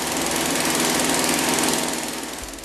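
A modified gasoline engine roars continuously with its exhaust open, a loud, rough, buzzing drone that holds steady and then eases slightly toward the end.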